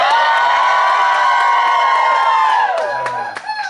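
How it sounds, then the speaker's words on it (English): Crowd cheering at a live concert in Dallas, a loud sustained roar of shouts and whoops that thins out toward the end into scattered calls. "If you'd like to hear the song in Espanol, cheer now!"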